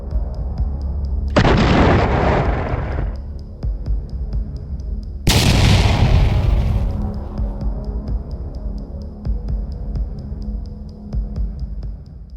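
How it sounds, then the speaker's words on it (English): Bomb strikes on a Russian military base: two heavy, roaring blasts a few seconds apart with long rumbling tails over a constant low hum, loud and distant, with no voices. "Footage circulating on social media appears to show powerful secondary detonations, indicating that ammunition stockpiles or fuel depots were struck"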